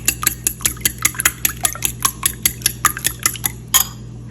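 Two eggs are whisked briskly in a bowl with a utensil, making a steady run of about twenty quick, rhythmic clinks and taps against the bowl over a low, constant hum.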